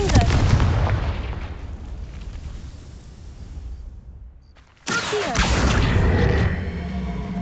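A fiery Confringo blasting spell from Hogwarts Legacy bursts loudly after a brief lull, following a long rumbling stretch of explosive combat noise with voices mixed in.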